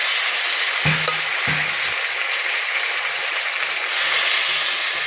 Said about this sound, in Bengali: মশলাটা ভালো করে ভাজা হয়ে গেছে এবার জল দিয়ে দেবো